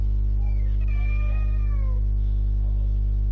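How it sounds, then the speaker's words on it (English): A house cat meows a few times, faint and drawn-out, over a loud constant electrical hum with no talking. "Whose cat is that?"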